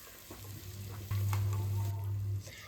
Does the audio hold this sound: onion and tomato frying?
yes